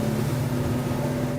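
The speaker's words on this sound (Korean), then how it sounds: "엔진 소리는 줄어들고 선미 도어를 닫으면 소리가 훨씬 더 줄어듭니다." Steady low drone of a Jeanneau Merry Fisher 1095 Fly Series 2 family boat cruising at about 25 knots on twin Yamaha 300 hp outboards, heard as a continuous hum with no talk.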